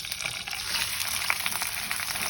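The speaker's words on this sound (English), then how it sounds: "I will put in my potatoes into this." Potatoes with the skins left on sizzle in hot oil in a pan for a Bengali aloo chorchori, a steady, close, dense crackle and hiss with no talk.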